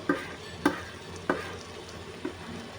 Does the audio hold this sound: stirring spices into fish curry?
yes